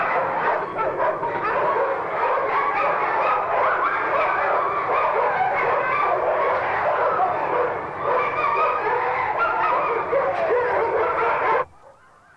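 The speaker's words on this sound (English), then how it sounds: "tensions build, and Bundy and Coco, the two bitches, seek a resolution" Two female huskies squabble aboard a ship bound for Antarctica, a steady run of close yips, whines and barking snarls lasting about eleven seconds before cutting off abruptly into quiet.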